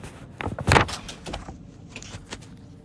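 An indoor door is pushed shut with one fairly close thud and latch click, followed by a few faint rattles and knocks in a quiet room.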